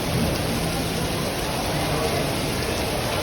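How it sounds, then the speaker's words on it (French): Heavy tropical rain pours down in torrents in Singapore, a dense, constant roar, loud and close, with a faint voice buried underneath. "je vous jure il pleut, mais c'est des torrents d'eau qui tombent"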